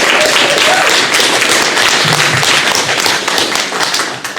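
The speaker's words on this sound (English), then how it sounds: "Let's give her another round of applause." Audience applause for a woman named Angie at a talk on consciousness, a dense, steady wash of many hands clapping throughout, loud and close, with a faint voice briefly underneath.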